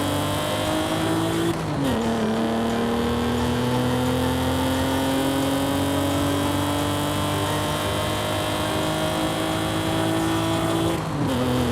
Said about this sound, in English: the Mitsubishi 3000 GT VR4 is the only car I stopped building because of how bad it sounds in game